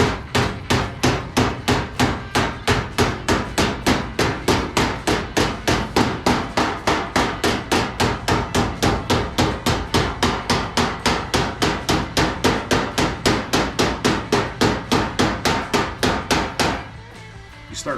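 A hammer strikes again and again to fold a steel door skin over its frame, a loud, close, steady rapid metallic pounding at about three blows per second that stops near the end.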